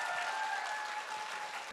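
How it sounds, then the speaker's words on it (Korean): A studio audience at a Korean talk-concert show gives a short burst of even, moderately faint applause that stops abruptly. "여러분 박수 한번 부탁드리겠습니다."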